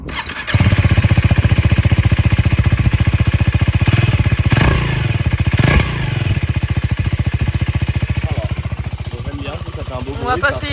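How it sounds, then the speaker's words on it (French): A motocross-style dirt bike engine, a 450 EXC-F or 390 SMC R supermoto, starts with a quick burst and then runs at a loud, rapid, rattling idle, rising and falling with a few throttle blips. "Allez Isaac, je te laisse allumer la moto."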